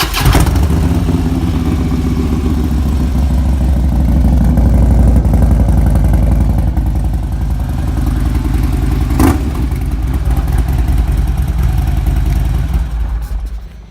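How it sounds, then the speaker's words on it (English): A motorcycle fitted with a Vance & Hines 2-into-1 exhaust runs indoors, a loud steady close idle with a deep throbbing rumble that holds for the whole stretch, with one sharp clack partway through. "I'm gonna start the motorcycle for you for a few seconds so you can hear it."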